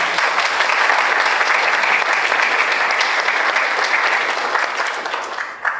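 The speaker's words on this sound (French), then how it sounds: "Applaudissements." Applause from the audience at the Kura Master 2023 sake competition award ceremony, a dense, steady clapping from many hands that holds for several seconds before tapering off near the end.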